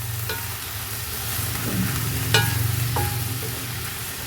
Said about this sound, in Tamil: முருங்கைக்கீரையை நல்லா வதங்கணும்